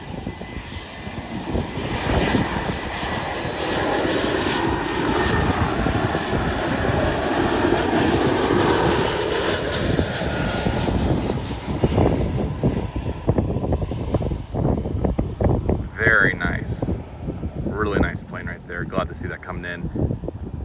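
A GlobalX Airbus A320 lands at Stillwater Regional Airport with a loud, steady jet roar that fills the whole stretch and slowly shifts in tone as the aircraft passes.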